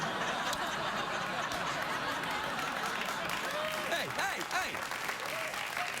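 Sustained applause from a late-night talk show studio audience fills the room evenly, mixed with scattered chuckles and a few whooping voices.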